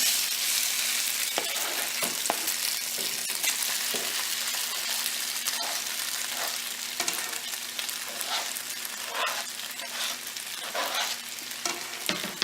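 Sliced steak sizzles in a hot pan for peppered steak, a steady loud frying hiss with scattered clicks and scrapes of stirring throughout, no voices.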